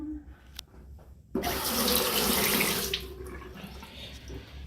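A hotel bathroom sink tap runs steadily after a brief quiet pause, a loud, close, continuous rush of water that holds for several seconds and eases slightly near the end.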